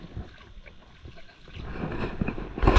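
Wooden paddles work a small fishing boat at sea before the engine is started, with soft wind and water washing near the hull and a few low knocks and splashes growing louder toward the end.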